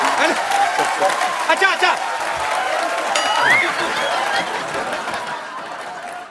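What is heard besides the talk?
studio audience applause on The Kapil Sharma Show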